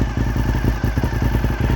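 A 2004 Honda RC51 SP2 motorcycle engine runs close by with a slip-on exhaust and gear-driven cams, giving a steady low, rumbling idle with a rapid mechanical clatter throughout, no voices present.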